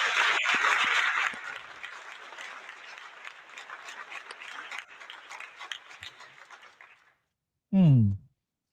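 Applause from a studio audience greeting a trucking business owner on a talk show, dense clapping that starts loud and thins out over several seconds before stopping.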